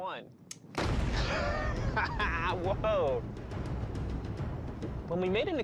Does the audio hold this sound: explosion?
yes